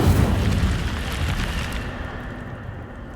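Fire spell Incendio cast in the video game Hogwarts Legacy, a loud deep burst of flame at the start that rumbles on and slowly fades out over a few seconds, with no voices.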